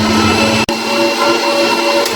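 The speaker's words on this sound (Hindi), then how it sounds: "इसको ब्लेंडर पे रख देंगे इस तरीके से।" A kitchen blender runs at full speed with a loud, steady whine while blending mint water, then cuts out for an instant and starts whirring again.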